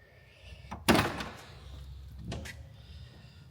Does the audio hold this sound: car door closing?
yes